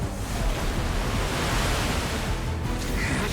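Loud, steady rush of flooding water in the video game Genshin Impact, a dense, continuous roar like heavy surf that fills the whole moment without a break.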